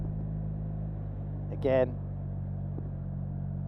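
A 2024 Yamaha TMAX 560 Tech Max scooter cruises at about 3,000 RPM with its CVT, giving a low, steady engine hum with constant tonal drone beneath a voice and a brief spoken word.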